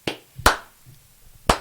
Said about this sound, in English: Props, props. Clap to Jeremy.